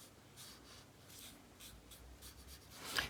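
Felt-tip Crayola Supertips and gel pens rubbing across thin paper in an adult coloring book, quiet repeated scratchy back-and-forth strokes close to the microphone, with no talking.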